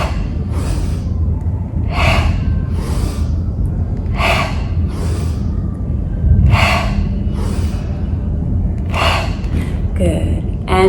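Repeated breathy exhalations during a calming yoga session meant to ease anxiety and stress, each one a soft airy puff arriving every second or so over a steady low background, close and moderately loud.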